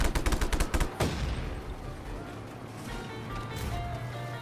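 Gunfire in the Just Cause 3 video game: a rapid burst of automatic shots up close, then fading rumble and echo as the shooting stops, with faint game ambience beneath.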